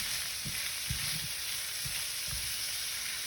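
Shredded cabbage sizzles steadily as it cooks for an Oktoberfest stew in a Dutch oven, a continuous close frying hiss broken by a few soft low knocks of stirring.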